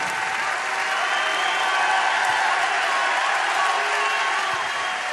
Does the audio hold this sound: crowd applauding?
yes